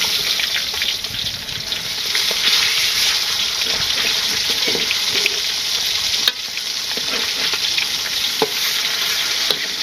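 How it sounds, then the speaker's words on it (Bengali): Fish fries in a pan with a steady, bright hiss and crackle that stays loud and even throughout, broken by occasional clinks and scrapes of stirring. "মাছ ভাজি হয়ে গেছে।"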